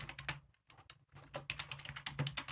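Quiet rapid keystrokes on a computer keyboard, a steady run of clicks with one brief pause, close and faint with no voices.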